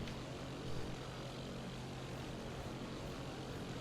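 Propeller planes fly in the video game 007: Nightfire, giving a steady, even engine drone that stays faint and unbroken throughout.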